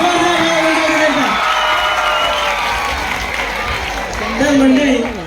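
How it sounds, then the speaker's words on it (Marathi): Loud audience applause and cheering fill a school annual gathering at Modern High School, Shivajinagar, Pune, steady clapping with crowd shouts, swelling again near the end. "जोरदार टाळ्या वाजवा"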